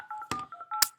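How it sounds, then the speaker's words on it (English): Touch-tone keypad beeps as a phone number is entered, a quick run of short dual-tone presses with brief gaps and no talking over them. "let me put the phone number in here."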